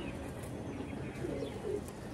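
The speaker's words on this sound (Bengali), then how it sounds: "এরপরে আপনার কাছে একটি সিঙ্গেল পায়রা এনেছি।" A male white pigeon at a pigeon seller's coos softly, a faint low murmur of repeated coos over steady background noise, with no talk.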